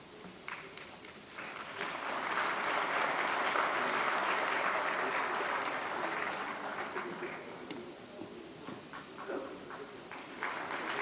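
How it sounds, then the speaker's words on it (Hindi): Sustained applause from a large audience at a formal ceremony honouring a guest, building to a loud broad peak after a couple of seconds and then easing to steady clapping through to the end. "जोरदार तालियों से स्वागत"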